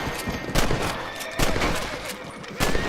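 Rifle shots at rabbits in the Western video game Red Dead Redemption crack out three times at uneven intervals over a low outdoor ambience, each shot sharp and fairly close.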